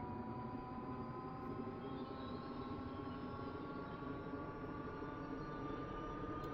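A-10A jet engine spooling up during startup in a cold war flight sim, a steady droning whine with rising tonal lines held over a constant broadband roar, alone with no talk.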